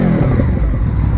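A Honda VFR 800 motorcycle engine rumbles loudly and steadily up close, a deep throaty drone with mechanical clatter, no voices.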